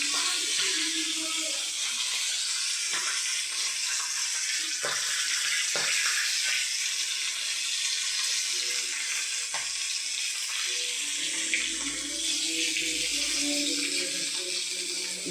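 A rohu fish head fries in hot oil on a lowered flame, crackling and spluttering steadily and close by, with a few sharper pops scattered through a long stretch.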